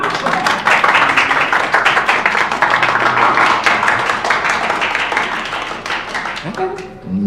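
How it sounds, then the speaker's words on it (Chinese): A group applauds at an office gathering honouring a staff member for a successful funding round; dense, steady clapping that thins out toward the end, with voices talking over it. "大家鼓掌！"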